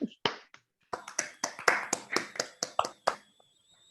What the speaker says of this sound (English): Unmute yourselves and clap frantically into the microphone.